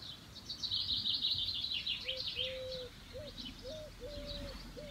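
Busy outdoor birdsong: a dense chorus of high chirps and trills, with a few soft, low cooing calls joining in partway through.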